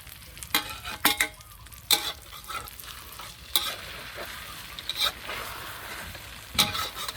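Chili frying and being stirred in a hot pan while an omelette is cooked, a steady sizzle broken by sharp scraping strokes of the spatula at irregular intervals, close and alone.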